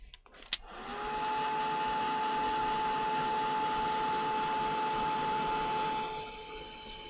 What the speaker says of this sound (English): let's just get these blasted with my heat gun